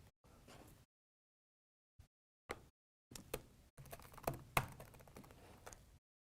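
A name is typed on a computer keyboard in short, quiet bursts of clicking keys, with scattered pauses between the groups of strokes and no talking.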